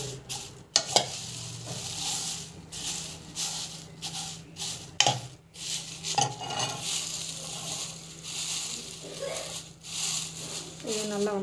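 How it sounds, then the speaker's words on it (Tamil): Ingredients sauté in a hot pan, giving a steady soft sizzle broken by repeated scraping stirs and light clinks of a utensil against the pan, with a voice now and then in the background. "நல்லா வந்து வதக்கிக்கலாம்"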